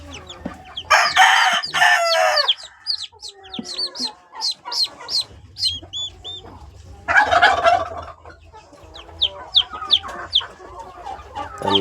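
Two newly hatched turkey chicks, earthquake survivors, chirp nearby in quick high peeps and trills, with a few louder, longer calls and some soft rustling between them.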